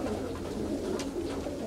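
Pigeons, show birds from a Greek pigeon loft, coo with low steady murmurs that run throughout, close and continuous, with no voices.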